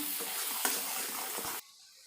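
Spices with chilli powder sizzle loudly in a hot pan, a dense frying hiss with a few stirring scrapes, then cutting off abruptly to near quiet.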